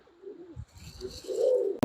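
Lahori Sherazi pigeons at a farm give a close, low, rolling coo that swells toward the end. The coo is cut off by a sudden loud burst of noise.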